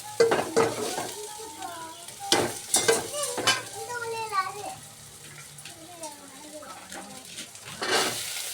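Onion, tomato and green chili sizzle in hot oil for a kurma, with continuous frying and scraping stir sounds beneath people talking, including a voice.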